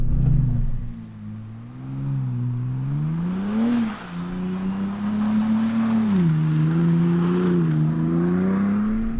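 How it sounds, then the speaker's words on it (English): Off-road vehicle, a 2024 Ford Bronco Raptor or Can-Am Maverick R, drifts through a dirt corner among trees, its engine note rising and falling as it is revved, loud and steady with no talking. "let's try to drift this thing in this corner"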